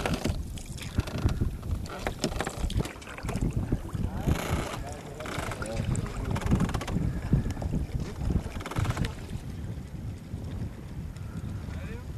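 A canoe heads out toward a small fishing village in Madagascar. Soft, uneven paddle splashes and water movement mix with gusts of wind and occasional voices, all fairly quiet.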